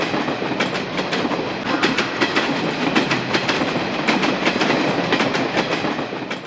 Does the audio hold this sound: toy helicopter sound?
no